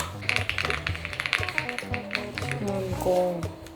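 Keys tapped on a high-pitched, light linear mechanical keyboard with a crystal palm rest in a keyboard test shop, a fast run of sharp clicks and clacks up close, with people talking nearby.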